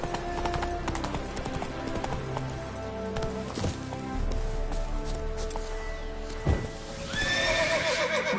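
Roach the horse gallops with steady clip-clop hoofbeats in The Witcher, whinnying clearly near the end over a backdrop of game music.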